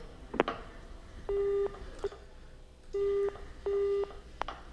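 Telephone line giving an engaged tone in a phone call: three steady, evenly spaced beeps, each held about a third of a second, amid soft clicks and low background hiss.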